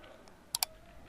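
Two quick keystrokes on a computer keyboard while writing a Java program, sharp close clicks about a tenth of a second apart against a quiet background.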